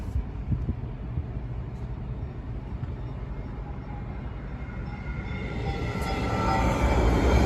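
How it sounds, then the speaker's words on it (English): A train rolls past on rails with a continuous low rumble and rattle of railcars, steady and fairly close, growing slightly louder toward the end, with no horn. "let's see if a train is actually coming. Oh, yep, I see one."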